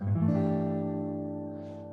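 A single G6/9 guitar chord strummed once, rich and ringing, slowly fading out alone.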